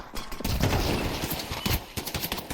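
Rapid bursts of automatic gunfire during a Counter-Strike match, dense overlapping shots crackling close and loud for most of the stretch, then thinning into a few scattered pops.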